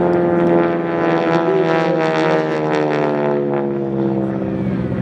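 Steady, loud propeller drone of an aerobatic airplane rolling overhead at the 2024 First State Airshow, its engine tone rich and sustained with a slight swell as it passes, no voices over it.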